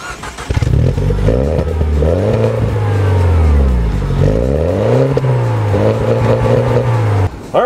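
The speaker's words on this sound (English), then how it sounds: "Let me show you why with the 0 to 60 mile per hour test." A 2012 MINI Cooper S Coupe engine roars close by as it accelerates hard from 0 to 60 mph, pitch climbing and dropping through several gear shifts, loud and continuous.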